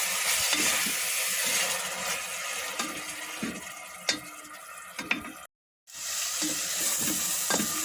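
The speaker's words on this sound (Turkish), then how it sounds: "Şimdi ben domatesini ilave ediyorum. Biraz domatesini kavuracağım." Tomatoes frying with softened onions in a pan: a steady, bright sizzle with intermittent stirring knocks and scrapes, broken by a brief silent gap before the sizzling resumes.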